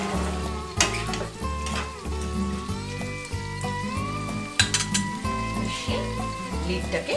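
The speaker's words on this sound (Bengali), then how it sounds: "রসুনটা যেটা ছিল সেটা আমি আবার এটা এরকম করে মেশাবো" Garlic, tomato and onion stirred in a pan for a South Indian red chutney, with a repeated scraping and knocking of the spoon against the pan over a soft sizzle and a few sharper clinks.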